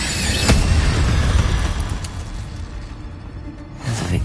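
An Incendio fire spell cast in the video game Hogwarts Legacy, a loud roaring whoosh of flame with a sharp crack near the start that fades out. A second burst flares up at the very end.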